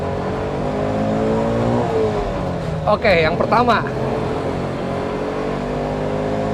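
Bajaj Qute small car accelerating, with a steady engine drone and rising revs continuing throughout, while a person talks briefly in the middle.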